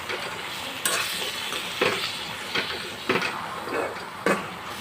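Gongura leaves stirred in a sizzling pan, with a spatula scraping and clinking at irregular intervals over a steady frying hiss.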